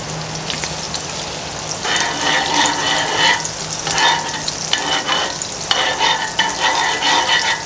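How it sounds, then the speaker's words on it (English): Unsalted butter heats in a pan being readied for searing pork chops, giving a loud, close sizzle that swells and crackles in bursts with a steady hiss underneath. "going to add in some unsalted butter"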